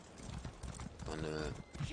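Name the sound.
horse hooves galloping in a video game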